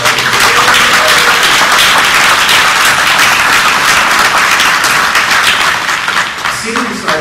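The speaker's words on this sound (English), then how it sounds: "Let's have a round of applause." A packed Comic-Con panel audience at a Comic Book Legal Defense Fund live event breaks into loud, sustained applause and clapping that fills the whole stretch evenly before easing slightly at the end.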